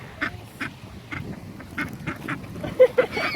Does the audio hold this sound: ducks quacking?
yes